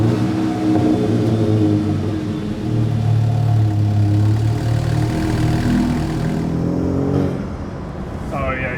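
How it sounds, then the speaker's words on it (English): Car engine revving in a steady sustained drone that rises and falls slightly, close and loud, then drops off near the end with a brief hissing release like a turbo blow-off valve, while a voice talks over it. "That blow off is so nice."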